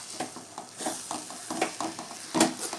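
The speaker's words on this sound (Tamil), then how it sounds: "இப்போ நம்ம உப்பு போட்டாச்சு இப்போ நல்லா கிளறி விட்டுக்கலாம்" Salted grated coconut and kuppai keerai spinach koottu are stirred in a pan, with soft scraping strokes over a low sizzle, close and fairly quiet with no voices.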